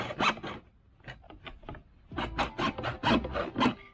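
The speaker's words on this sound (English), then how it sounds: "This time I'm gonna use just a plain hacksaw." A plain hacksaw cuts through a plastic stormwater downspout pipe, a close, rasping back-and-forth scrape in quick strokes, sparse at first and then more rapid and steady.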